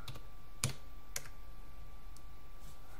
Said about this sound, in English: now we're going to type in setup